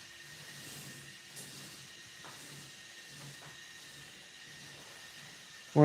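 A model roller coaster train runs along its track with a faint, steady hiss and light rolling clicks, ending in a sudden loud burst.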